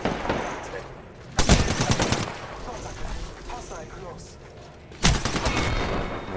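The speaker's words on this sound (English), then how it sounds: "He's wasting bullets on me." Automatic gunfire in the video game Apex Legends, aimed at the player: two loud bursts of rapid shots, one early and one near the end, separated by quieter game sounds.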